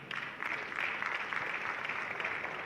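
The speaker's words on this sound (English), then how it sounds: "Can we clap for Nigeria?" A convention-hall audience at an international buyers' event applauds, a moderate, steady spread of clapping that carries on evenly with no talk over it.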